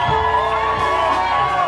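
Crowd at a Latin concert in a lounge cheers and claps loudly and continuously, with whoops and shouts mixed into a dense, steady wall of noise under sustained music tones.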